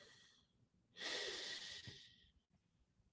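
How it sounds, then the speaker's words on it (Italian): One person takes a single deep, audible breath during a guided prayer breathing exercise. The inhalation is close and breathy, runs about a second and a half, and sits in a quiet room. "facciamo tre respiri profondi, partendo da adesso insieme, fai un bel respiro"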